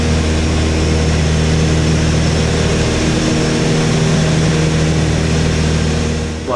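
A Piper Seneca's engines drone steadily through the cabin in flight, a loud, unbroken hum with a low, even tone and no talking.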